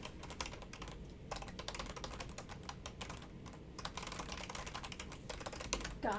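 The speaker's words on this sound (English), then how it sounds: "Typing, it's hard." Fast typing on a computer keyboard, a dense, steady stream of close keystroke clicks with a few brief pauses, alone and without talk.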